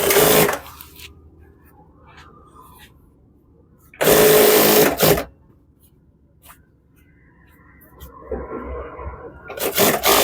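A sewing machine stitches pant pajama fabric in three short, loud bursts: one at the start, one in the middle and one at the end, with quiet handling noise between them.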